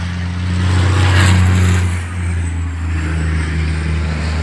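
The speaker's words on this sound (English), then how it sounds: "we've got the race truck just coming in that we've just been watching going round." A 1200bhp race truck at Pembrey circuit roars past close by with a loud, deep, droning engine note that swells, dips briefly, then settles into a lower steady rumble.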